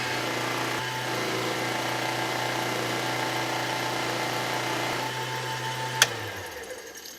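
A lathe spins a motorcycle-themed pen blank during dry buffing, making a steady motor hum with a high whirring layer. A sharp click comes near the end as the machine winds down.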